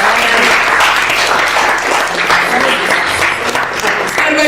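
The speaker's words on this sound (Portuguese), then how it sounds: "Você pode aplaudir o Senhor Jesus." A church congregation applauds, a full, loud wash of clapping that holds steady throughout with voices mixed in underneath.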